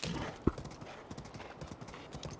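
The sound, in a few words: horse hooves clip-clopping in video game Zelda Breath of the Wild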